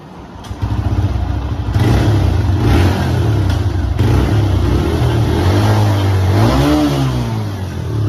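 A TVS Raider BS6 motorcycle engine fires up and revs loudly nearby, the pitch rising and falling through a couple of throttle blips before settling to idle.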